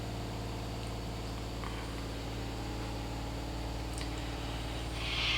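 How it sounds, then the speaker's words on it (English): A steady low mechanical hum with a constant whirring drone, like a washing machine running nearby, unbroken throughout with a faint brighter swell near the end. "the washing machine making noise"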